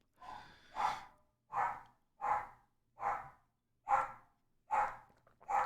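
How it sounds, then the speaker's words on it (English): A dog barks repeatedly at a steady pace, eight sharp, fairly close barks about every three-quarters of a second, each followed by a short pause. "the dog needs to stop."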